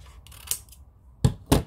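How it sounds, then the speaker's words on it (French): Small scissors snip gift box cardboard at an angle, a few crisp close cuts, with two sharp louder snips near the end and no voices. "avec des petits ciseaux, c'est quand même plus facile"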